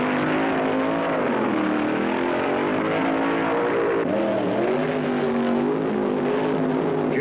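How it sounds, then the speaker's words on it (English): Top fuel dragsters idling and revving in the staging area of a 1975 drag racing event, a loud, rough engine drone rising and falling in pitch over several seconds with no voices. "As the awesome sound of the top fuelers echoed in the staging area, 8 cars were being brought up"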